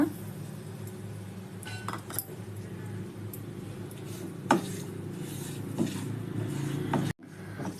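Semolina roasting in ghee in a pan over a low flame, with a spoon scraping and clinking against the pan in scattered light strokes over a steady low background hum.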